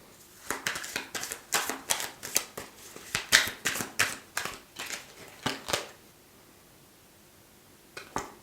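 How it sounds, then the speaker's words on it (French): Tarot cards are shuffled in a quick run of crisp riffling slaps, about a dozen close bursts over six seconds, then near silence before one last soft flick. "on a déjà des cartes qui tombent du jeu"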